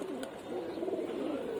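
A young homing pigeon from a breeder's loft cooing continuously up close, a low, rolling, throaty call with faint background hiss and no talk.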